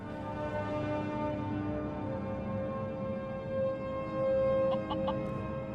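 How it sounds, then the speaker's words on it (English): A chicken clucks in the virtual reality video game Skyrim VR, soft repeated clucks over a steady ambient musical drone with a few short chime-like tones. "Got our own chicken buddy."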